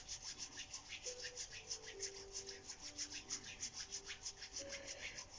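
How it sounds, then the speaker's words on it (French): Palms rub together in circles with a soft, rhythmic swishing that repeats steadily and sits close and quiet, with faint tones in the background. "Et là, on frotte nos palmes en rotation."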